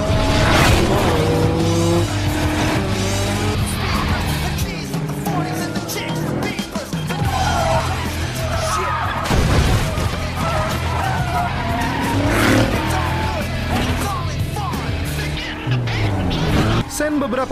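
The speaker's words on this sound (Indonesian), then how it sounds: "Dan akhirnya balapan pun dimulai." Race cars skid through a street race in the Tokyo drift film, with loud, continuous tire squeals and roaring engines over music, while voices speak at points.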